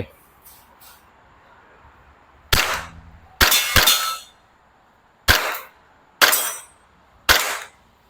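A WE Glock 35 Gen4 gas BB pistol fires six sharp semi-auto shots, spaced irregularly in singles and quick pairs, each a crisp snapping crack with a brief metallic ring, close and loud over quiet background.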